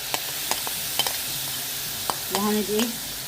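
Onions and peppers stirred in a frying pan, with a soft background sizzle and a few scattered scrapes and clinks of a utensil, ending in a short squeaky scraping burst near the end; no talking.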